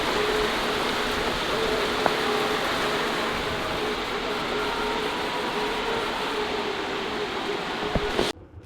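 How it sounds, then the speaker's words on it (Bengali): Heavy rain pours steadily during a Mahalaya-day evening, a dense continuous hiss close by and fairly loud, with faint background hum and no voices, cutting off abruptly at the end. "জোর বৃষ্টি এসছে এখন।"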